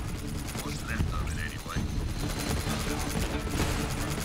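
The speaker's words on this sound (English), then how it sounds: "I'm just shooting stuff." Rapid automatic gunfire in the Borderlands 3 video game, a dense sustained stream of shots with mechanical clatter, while players talk over it throughout.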